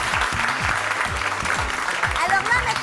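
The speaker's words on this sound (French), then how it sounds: "On applaudit les candidats, allez." An audience at a television talent show applauds the contestants with steady, dense clapping, and a voice carries over the top.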